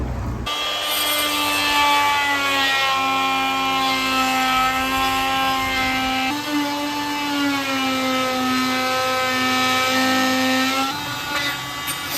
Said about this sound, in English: Time for one of my favourite tools, oscillating multi-tool.